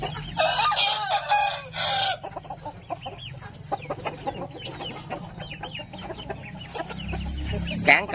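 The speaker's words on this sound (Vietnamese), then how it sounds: "Gà tơ nha anh em ơi, gà tơ mới lớn nha." A young rooster clucks and crows up close, with a loud crow at the start followed by a run of short clucks and faint background noise.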